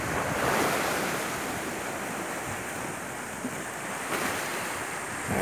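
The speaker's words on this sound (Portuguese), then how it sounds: "Aqui na Praia do Xarel, no Cabo de Santo Agostinho." Ocean surf rolls steadily onto Xaréu beach at Cabo de Santo Agostinho, a continuous close wash of breaking waves mixed with gusty wind buffeting the microphone, with no voices.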